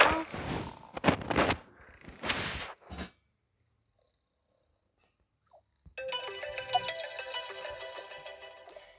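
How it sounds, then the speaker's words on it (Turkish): A phone ringtone starts after a quiet pause and plays a bright, repeating melodic pattern at close range, following a few seconds of rough purring or snoring-like noise. "Ya yine mi telefon? Of kapan artık telefon ya."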